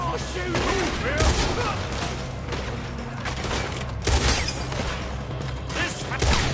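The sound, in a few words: gunfire in the video game Red Dead Redemption 2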